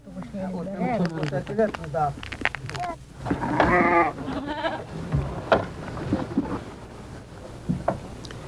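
Goats bleating nearby on a farm in the Taklamakan Desert region of the Silk Road, with a run of several wavering calls, one longer and louder bleat in the middle, and other stirring sounds around them.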